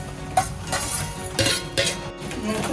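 Raisins roast in ghee in a pan as a spoon stirs them, giving repeated clinks and scrapes of metal on the pan over a light sizzle, close up and with no voices.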